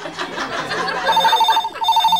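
A phone rings in a pulsing electronic pattern of several short bursts, following a moment of muffled talk in an office setting.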